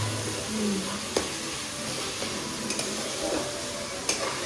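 Onion and garlic paste frying in hot oil, a continuous close sizzle broken by a few sharp spoon taps and scrapes against the pan, with no speech.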